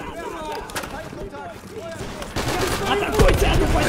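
Sniper gunfire in the World War II shooter Easy Red II during the Stalingrad Volga River crossing battle, sharp shots cracking over a busy wash of distant battle noise, with one loud close report near the end.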